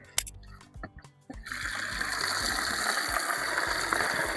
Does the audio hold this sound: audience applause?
no